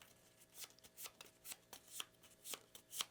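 A deck of Shadows of Brimstone board game cards, the world deck, is shuffled close up in quick rhythmic riffles about twice a second, soft and crisp with no talking.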